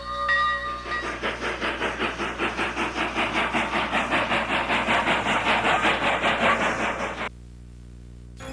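A Northern Pacific train rolls past in old 16mm film sound, a loud rhythmic clatter of wheels on rail joints repeating steadily for about seven seconds before cutting abruptly to a quieter hum.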